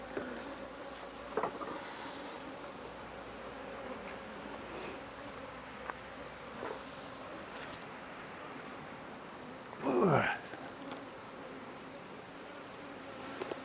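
Honey bees buzz faintly around an open, queenless beehive, a thin steady drone with a few louder passes of single bees flying close, one swelling near the end.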